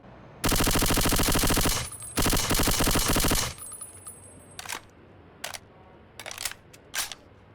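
Suppressed gunfire from a Half-Life 2 roleplay game weapon comes as two dense bursts of rapid mechanical shots, followed by several sparse, fainter single clicks and pops.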